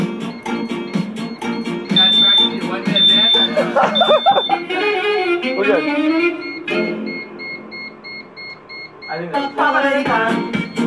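A loud beeping alarm goes off in repeated tones during a snowboard trip in Maine, with people talking and laughing over it.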